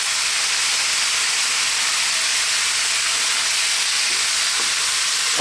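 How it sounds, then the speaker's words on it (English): Canned tomatoes and beans hit a hot pan and fry with a loud, dense, continuous sizzle and hiss that holds steady throughout, with a few soft stirring knocks near the end. "we're going to drop in that half can of tomatoes. And our small can of beans."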